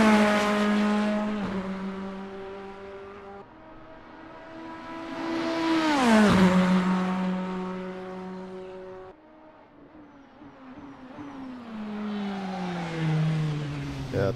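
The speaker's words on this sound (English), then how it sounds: "Let's just listen to the sound." BMW M Hybrid race car engine in a racing sim, loud and close from the onboard view, revving up through several gears with sharp shift drops, strong harmonic whine and a brief lift before accelerating again.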